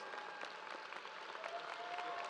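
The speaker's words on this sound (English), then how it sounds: "Please give them a well-deserved round of applause." Steady applause from a crowd at a high school graduation, dense and continuous clapping throughout, moderately distant, with no talking over it.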